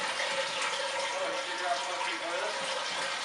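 A household toilet flushing, a steady loud rush of water that fills the whole moment without pause.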